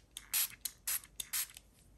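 Ink sprayed onto a mixed media junk journal cover, heard as four short, close hissing bursts of a spray bottle in an uneven rhythm with brief pauses between them, in an otherwise quiet room.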